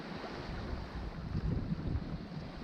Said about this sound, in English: Waves are starting to moderate a little bit